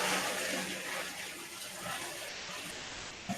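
Water pours steadily into home beer-brewing equipment for the mash, a continuous rushing gush heard up close with no talk.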